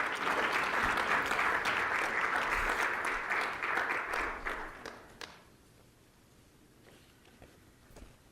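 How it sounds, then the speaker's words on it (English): An audience at a Princeton forum gives a loud round of applause that holds for about five seconds, then fades to scattered claps and quiet room noise. "Ladies and gentlemen, please give a loud round of applause"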